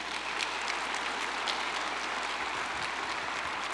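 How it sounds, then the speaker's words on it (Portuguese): A church congregation applauds during a Communion service, a steady wash of many hands clapping that holds evenly throughout at moderate distance with no talk over it. "Vamos dar um aplauso ao Senhor?"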